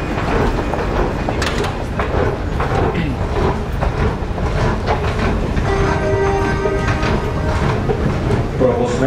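A Prague metro train stands at Kačerov station during a service disruption, with loud steady rumbling and clattering, door and mechanism noises, and a tonal whine later, while voices and announcements mix in.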